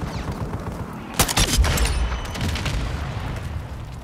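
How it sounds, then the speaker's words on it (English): A cruise missile strike in Call of Duty: Modern Warfare II lands as a heavy boom amid rapid gunfire bursts and fusillades, loud and dense, with a rumbling tail fading behind the shots. "Friendly cruise missile inbound"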